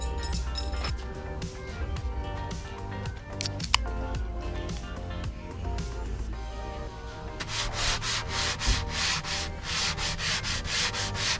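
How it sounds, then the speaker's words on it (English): Hand sanding of a chalk-painted dresser between coats, a continuous close rubbing and scraping that turns into faster, brisk back-and-forth strokes in the final few seconds. "After the first coat dried, I gave it a light sanding"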